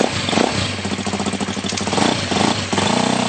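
A KTM motocross motorcycle engine, close up and loud, fires and runs with a rapid pulsing two-stroke-style beat, briefly dipping and picking back up as it settles into a fast idle.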